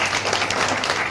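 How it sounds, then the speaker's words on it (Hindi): A loud burst of crowd clapping at a rally-planning meeting in Muzaffarpur district, Bihar, dense and steady across a short stretch with no voices on top. "थोड़ा ताली बजा दीजिए इनके बारे में।"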